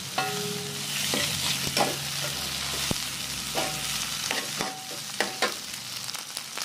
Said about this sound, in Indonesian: di sini kita aduk-aduk sampai merata ya bumbunya